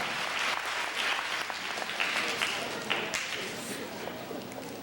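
Applause from a room full of people at a school assembly, a busy crackle of clapping that slowly thins out, with faint voices mixed in.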